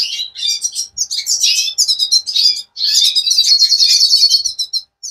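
Goldfinch chicks beg for food in a continuous, shrill chorus of high chirps and cheeps that rise and fall in dense bursts with only brief pauses, close by and loud.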